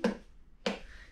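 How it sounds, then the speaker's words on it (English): Two sharp, separate hand claps from children during a library story-time song, bright and close, spaced about half a second apart. "If you're ready for a story, clap your hands."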